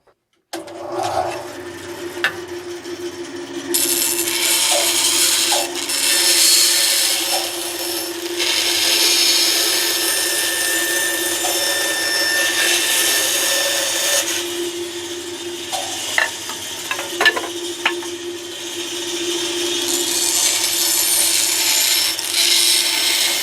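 Wooden pieces for a woodworking project are cut with a tool, making a rasping, grinding cutting sound that runs in long, steady stretches broken by brief pauses and small knocks.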